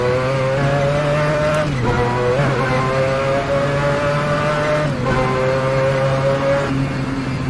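Race car engine from a racing video game lapping Le Mans, a loud continuous high-revving drone with steady pitch and brief dips at gear changes or chicanes, no voices.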